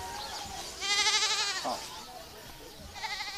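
Goat bleating close by, a loud wavering bleat followed by a shorter call a couple of seconds later, with faint background sounds in between.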